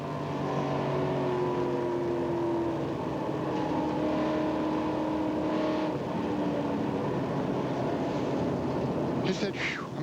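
Onboard sound from Jimmy Kitchen's race car at the 1999 NAPA Auto Parts 300, a loud, sustained engine drone with shifting tones as it runs at speed, a commentator talking over it and a brief squeal near the end.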